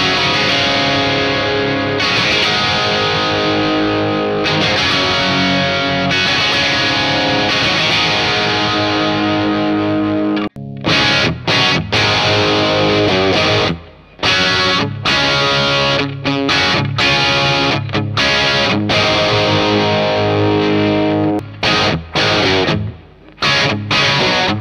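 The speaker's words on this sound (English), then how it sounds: "the orange channel on the clean and crunch channel, is based off a Marshall Plexi kind of gain structure." A driven electric guitar through the crunch channel of a modified Marshall JVM amp, with Plexi-style gain, plays sustained crunchy chords, then switches to choppy stabs with brief gaps, loud and close with no talking.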